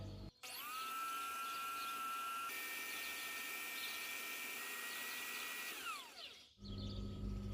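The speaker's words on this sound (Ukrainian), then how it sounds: "І включаю міксер." Electric hand mixer whirring steadily while beating a cake batter of sunflower oil, milk and vanilla sugar, a continuous high motor whine that shifts pitch midway and winds down near the end, loud and close with no talking.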